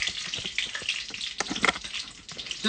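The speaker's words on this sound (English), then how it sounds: "Don't be alarmed by this little splash of hot oil." Hot oil splashes and sizzles in a pan while mustard seeds cook, giving bright crackling spits and short popping bursts over a fluctuating hiss, up close.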